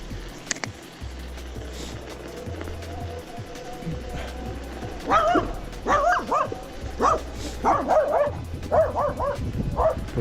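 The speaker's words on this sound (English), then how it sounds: "I can hear that this dog is trying to bark behind me" Dog barking and yipping behind an electric bike rider on a Samebike XMZ1214, several short barks in quick bursts over steady road and motor hum, with a low rumble underneath.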